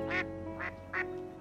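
A small duck gives three evenly spaced, nasal quacks over a soft, steady background tone.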